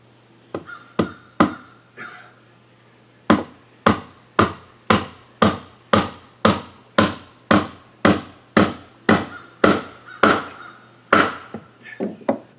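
Nails are hammered into a new wooden step during a church work day in North Carolina: about eighteen sharp, close wooden blows in a steady rhythm, with one short pause early on.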